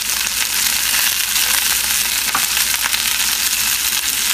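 Potatoes and onions fry in a Solidteknics AUSfonte cast iron sauteuse pan, giving a steady, loud, dense sizzle that runs unbroken throughout with no talk.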